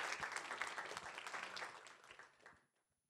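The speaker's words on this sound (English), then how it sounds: "So let's give Simone a big round of applause" Audience applause at a board of education meeting honoring an absent student, a dense burst of many hands clapping that fades out over about three seconds.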